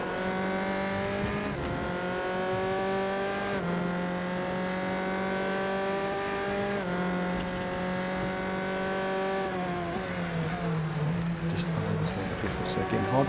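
Race car engine with tyre noise in a racing video game at Zandvoort, played on a Thrustmaster TS-PC Racer wheel; a steady, loud engine tone climbs and drops through gear changes across the clip while someone talks over it.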